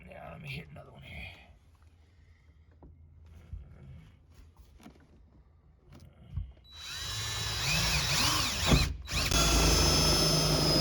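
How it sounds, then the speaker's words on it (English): Quiet, muffled voices and faint clinks, then a power drill drilling out a bolt on a 2014 Jeep Rubicon whirs in loudly and close, grinding continuously with a brief pause near the end. "I'm fixing to finish drilling this one out"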